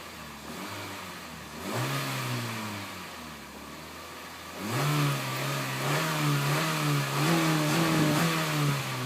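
A 2012 Honda Fit Sport with a manual gearbox revs hard toward its rev limiter. There are two rising pulls, the second held high and wavering, over a steady idle in between, with no talking.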